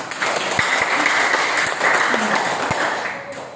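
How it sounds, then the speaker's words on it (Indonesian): Classroom audience applauding a student group after its presentation, a full burst of clapping that fades toward the end, heard up close without talk. "Berikan aplaus kepada kelompok ini."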